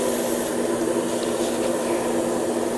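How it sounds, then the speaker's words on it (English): An airbrush sprays paint with a steady, continuous hiss of air and a constant low compressor hum beneath, unbroken and fairly loud throughout. "Let's turn on the compressor a bit. Give it a mix."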